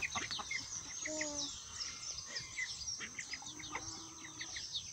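Chickens being chased around a yard, giving faint scattered clucks and squawks over steady background chirping birds, with quiet voices now and then in the distance.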